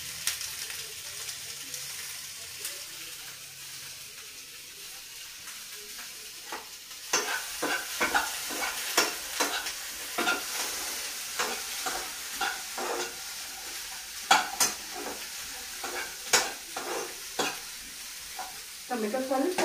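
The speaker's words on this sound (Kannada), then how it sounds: "ಈಗ ಅದಕ್ಕೆ ಎರಡು ಟೊಮೆಟೊ ಮೀಡಿಯಂ ಸೈಜ್ ಟೊಮೆಟೊ ಏನು ತೆಗೆದಿಟ್ಕೊಂಡಿದ್ದೆಲ್ಲ ಅದನ್ನು ಆ್ಯಡ್ ಮಾಡ್ತಿದ್ದೀನಿ" Medium-size tomatoes stirred and roasting in a hot pan, a low background sizzle with a run of sharp scraping spatula strokes that grow louder and irregular partway through.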